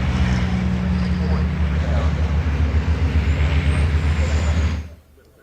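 Racing trucks roll onto the starting grid at Thruxton circuit, a loud, steady engine rumble holding for several seconds before it cuts away quickly.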